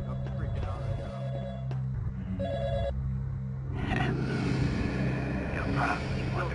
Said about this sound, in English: I'm hearing a phone ring.